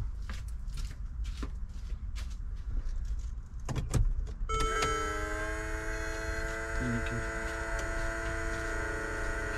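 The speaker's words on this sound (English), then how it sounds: "So now the pump's doing its thing. Obviously it's pumping." The seat air pump of a Mercedes G63 W463 starts up after a few seconds of background noise and keeps running with a steady, tonal electric whine and hum. The sound is close and continuous.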